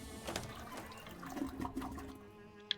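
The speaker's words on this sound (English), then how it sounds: "A steam-powered toilet. You don't see these very often, and it's not hard to imagine why. Flush it." A steam-powered toilet in a fantasy video game flushes quietly, a soft gurgling rush of water swirling and draining over a few seconds, alone without talk.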